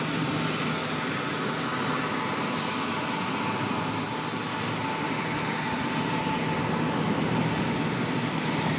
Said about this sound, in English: Goes our A321 off to the home base of Raleigh.